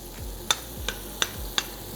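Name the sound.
noodle dish cooking in a pan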